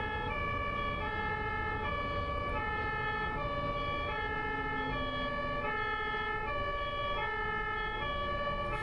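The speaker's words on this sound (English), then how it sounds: "It's crazy how the sirens all sound different too." A two-tone German ambulance siren alternating steadily back and forth, continuous over road and engine rumble, moderately distant.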